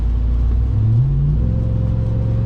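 Steady deep engine rumble from a TRX pickup truck driving in heavy rain, with a brief rising rev partway through and a continuous low road drone throughout, close and fairly loud, no talking.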